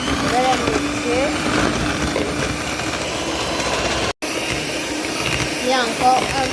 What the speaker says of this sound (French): Voilà, 10 doigts de banane. Je vais les mixer.